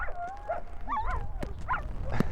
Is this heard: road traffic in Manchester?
no